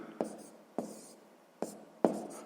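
Pen or pencil writing math on paper up close, four short scratchy strokes in an uneven rhythm, clear and fairly quiet with no voice over them.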